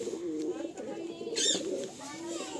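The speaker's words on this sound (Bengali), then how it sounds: "পাট্টা পায়রা।" Patta pigeons in a loft coo in low, rolling calls close by, with a brief flutter partway through; a person talks over the birds.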